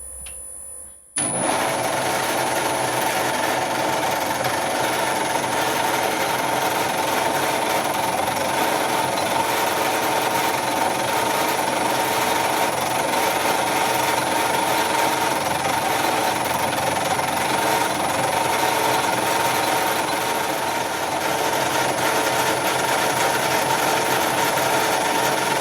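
A small metal lathe cuts a workpiece dressed with cutting oil, a steady grinding whine with a high tonal ring that starts abruptly and runs on unbroken, close and fairly loud.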